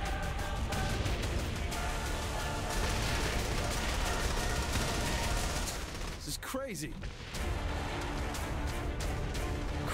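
Gunfire in the video game Saints Row: The Third, with dense, continuous bursts of shots and explosive crashes running through nearly the whole stretch, loud and busy with a brief dip near the middle.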